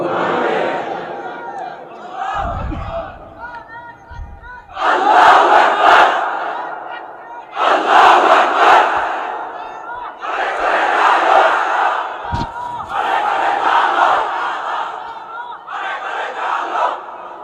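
A large crowd at an Islamic religious gathering roars the takbir chant "Allahu Akbar" in loud, sustained bursts, about five times in rhythmic succession, answering a preacher's amplified call between them.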